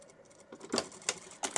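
A sewing machine stitches fabric for a decorative strip curtain, a short run of close, light clicking bursts and taps, fairly quiet and uneven, with no voices.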